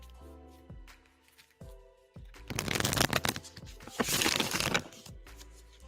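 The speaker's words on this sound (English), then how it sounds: "let's shuffle for you now" Tarot cards shuffled during a live reading, with two bursts of dense riffling and flapping card noise between quieter handling taps, fairly close and loud, with no talk over it.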